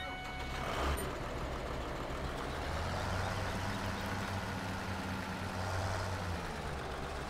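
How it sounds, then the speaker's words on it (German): A SAME tractor engine in Landwirtschafts-Simulator 17 runs in a steady, loud low drone with a constant rumble and no break. "da haben wir hier den same Traktor"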